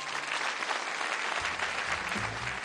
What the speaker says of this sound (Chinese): 能够送上您恰到好处的掌声祝福好吗